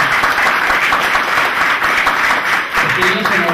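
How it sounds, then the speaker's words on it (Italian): Sustained applause from an audience at a talk, steady dense clapping filling the room from start to finish. "mi chiederei un applauso"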